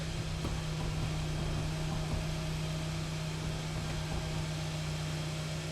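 A newly installed electric brake vacuum pump on a 2012 Kia Sportage runs with a steady, even low hum and faint buzz, continuous and unchanging throughout, with no voices.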